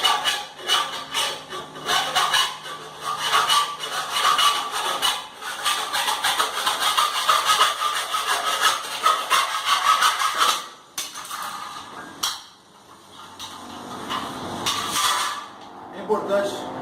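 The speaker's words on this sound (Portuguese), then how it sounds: "para serrar esse material, pessoal, com a serrinha" A small hand saw cutting through drywall during a ceiling hole repair, with a continuous rasping back-and-forth stroke rhythm, close and fairly loud, with a pause and a few final strokes near the end.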